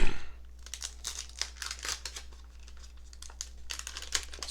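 Wax packs of 1981 Donruss baseball cards being torn open, with close, irregular crinkling and ripping of wax paper in quick bursts against a steady low hum.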